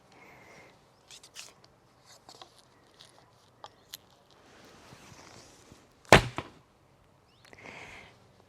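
A 40 lb Horn KTB II bow by Freddie Archery is shot with an arrow, giving one sharp, loud release thump about two-thirds through, followed by a short decay after quiet outdoor background with scattered faint clicks.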